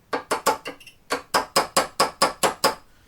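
Small hammer taps drive a part through on a Remington 700 with a Timney trigger, about a dozen sharp, evenly spaced metallic taps with a brief pause after the first few, close and clear.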